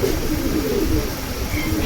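Silver pigeons coo in a steady low rumble, a flock murmuring close and fairly loud without pause.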